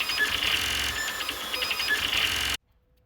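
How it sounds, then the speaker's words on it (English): A small, fast custom 3D printer runs with a busy whirring, chattering hum of stepper motors, fairly steady and close, then cuts off abruptly near the end. "It's a pretty fast little printer."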